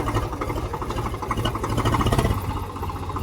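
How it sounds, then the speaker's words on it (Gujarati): A tractor engine runs with a steady, throbbing mid-pitched chug while reversing to load cut sugarcane in a field, loud and close with a slight rise in effort toward the end. "આવી ગયું છે આપણે ટ્રેક્ટર ભરાવવા માટે"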